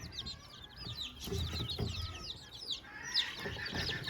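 Chickens and around thirty chicks clucking and peeping together in a poultry yard, a dense chorus of high cheeps over lower clucks, close and continuous, no talking.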